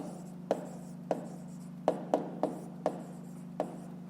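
A pen writes on paper during a fifth-grade math exercise, a low continuous scratch broken by about eight sharp taps at irregular intervals.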